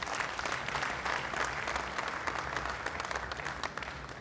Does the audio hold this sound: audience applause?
yes